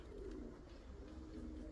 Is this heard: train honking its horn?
no